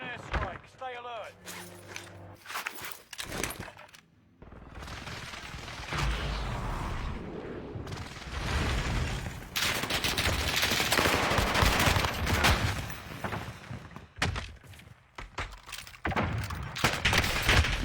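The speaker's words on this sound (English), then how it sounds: "Enemy precision airstrike. Stay alert." Call of Duty Warzone gameplay fills the mix with dense bursts of gunfire and booming precision airstrike explosions, loud and chaotic, with a voice speaking early on and short quieter gaps between barrages.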